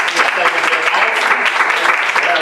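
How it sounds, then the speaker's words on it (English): A conference audience at a church-style awakening and restoration conference in Augusta, Georgia, claps in sustained, dense applause, close and loud for a couple of seconds. "Let's give it a hand clap."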